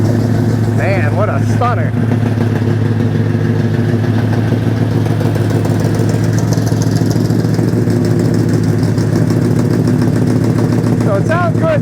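A 1962 Plymouth Savoy with a 440 engine on an electronic choke idles with a steady, loud, deep rumble that runs the whole time, while someone talks over it.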